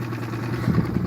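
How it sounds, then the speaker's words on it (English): A boat outboard motor idles steadily on a small fishing boat, a low, even engine rumble heard up close and alone, without knocking. "Yeah, it's idling good."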